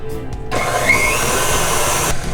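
KitchenAid stand mixer beating butter at speed 6: after a brief quieter start, the motor kicks up into a loud, steady whirring drone that holds evenly before dropping near the end.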